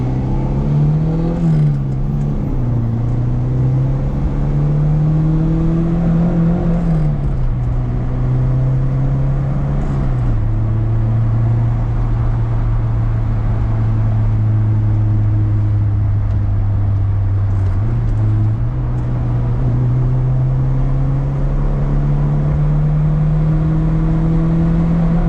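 A turbocharged Ford EF sedan on the road, its engine droning steadily from inside the car with pitch rising and falling through gear changes over a long drive.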